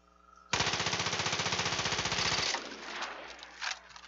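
A burst of rapid automatic gunfire rattles loudly in the video game Far Cry 5, a fast even stream of shots lasting about two seconds, then fading into scattered softer pops and echoes.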